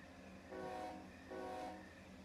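A train in the game Run 8 Train Simulator III rumbles steadily with a low mechanical hum, with two brief swells of a tonal horn-like sound riding on top.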